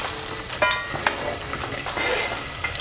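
A hake fillet frying in nutty browned butter in a pan, a steady bright sizzle with a few sharper spatters and stirring clicks, close and continuous.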